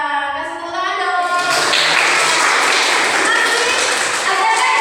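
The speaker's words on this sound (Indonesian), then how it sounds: "kasih tepuk tangan dong" A classroom of students bursts into applause after a voice calls for it, the clapping building into a dense, loud, sustained patter that continues to the end.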